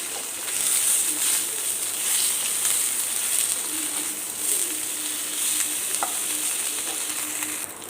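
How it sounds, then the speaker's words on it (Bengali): Halved sausages browning in a frying pan, a steady close sizzle and crackle with occasional spatula scrapes and a sharp tap, moderately loud throughout, no speech. "আমি সসেজটাকে ব্রাউন করে ভেজে নিই"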